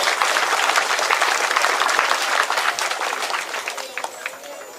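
An outdoor audience at a monument ceremony in French Guiana applauds the sub-prefect of Saint-Laurent-du-Maroni, a dense burst of many hands clapping that slowly tapers off with scattered claps at the end.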